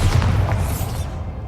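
A Bombarda blasting spell goes off in the game Hogwarts Legacy, one loud close boom that rumbles heavily and then fades quickly into a fizzing tail.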